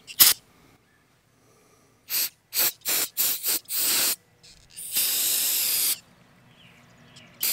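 Brake parts cleaner sprays onto a greasy trailer bearing hub in a run of short hissing bursts followed by one longer, steady spray, close and loud with quiet gaps between.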